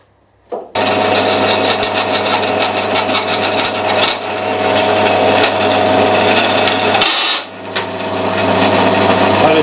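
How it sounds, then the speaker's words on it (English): A power drill grinds steadily into tough material, a continuous loud whine with a brief pause near the end before boring resumes. "Try another drill."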